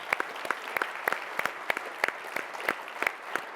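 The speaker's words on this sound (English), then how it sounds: "I think there's a big round of applause" Applause at a keynote interview for Jeremy Hansen, the first Canadian headed to deep space, a small audience clapping in a distinct, rapid patter of individual claps, close and fairly even.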